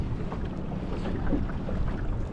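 A small, just-repaired engine mounted on a dinghy runs on the water with a steady, loud, continuous drone and wind rush throughout.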